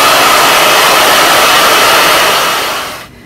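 A hair dryer fitted with a diffuser blows loudly and continuously on curly hair, a dense, steady rush of air that holds for about three seconds before cutting off abruptly.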